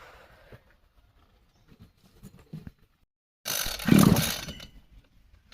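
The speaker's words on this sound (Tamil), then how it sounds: "இந்த மாதிரி இழுத்துட்டு ஸ்டார்ட் பண்ணுற மிஷின் ஸ்டார்டிங்கில் கொஞ்சம் இதாக தான் இருக்கும்." Two-stroke pull-start power sprayer engine on an agricultural machine: a few quiet knocks and handling noises, then a sudden loud burst of rough engine roar that lasts about two seconds and fades back down.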